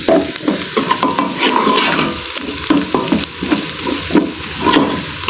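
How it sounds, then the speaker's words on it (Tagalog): Steady frying sizzle of garlic, onion and ginger sautéing with scraping stirs in a pan, continuous crackle and clatter close by, no voices. "gisa-gisa na tayo ng bawang, sibuyas, saka ng luya."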